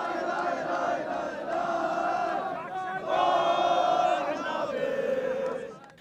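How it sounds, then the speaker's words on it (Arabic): Qatari football fans celebrating an Asian Cup final win over Jordan, a loud crowd roaring and chanting together in a sustained, swelling wave of voices. "لتنطلق فرحة الجماهير القطرية التي امتدت لساعات طويلة عقب اللقاء"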